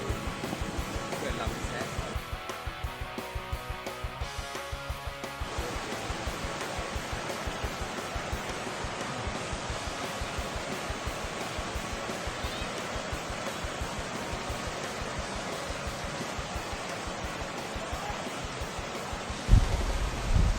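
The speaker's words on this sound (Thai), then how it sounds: "สายน้ำไหลลงสู่ที่ต่ำไหลไปอย่างไม่มีวันย้อนกลับ" Water pours steadily at Kaeng Wang Tao waterfall, a dense, continuous rushing roar that fills the whole stretch at an even loudness, with a brief bump near the end.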